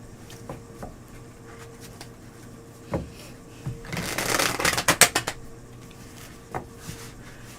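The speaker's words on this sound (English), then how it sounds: "And now I'm using the table to shuffle" Tarot cards shuffled on a table, a quiet stretch of faint handling noises before a dense riffle burst and a run of sharp card snaps, then a few scattered soft taps, close by, without talk.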